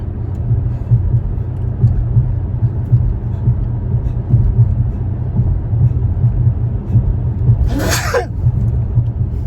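A single loud sneeze bursts out near the end, close and sharp, over a steady low rumble of road traffic that runs throughout.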